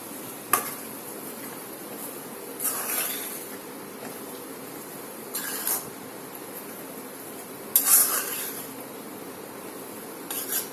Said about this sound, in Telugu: ఈ విధంగా కలుపుకోవాలన్నమాట.